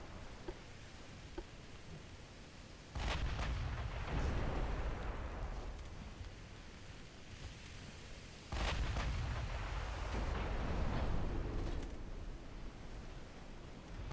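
Naval shellfire strikes ships during a battle in Ultimate Admiral Dreadnoughts: two long, heavy rumbling bursts of explosions and impacts, each lasting several seconds over a constant roar of background noise, with no voices.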